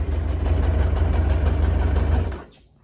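A Kawasaki Concours motorcycle engine idles on choke on a warm day, a steady, close, loud low rumble with a slight knocking pulse that cuts off abruptly near the end.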